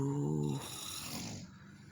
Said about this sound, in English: We'll wrap it up with the great snore of the great monster David.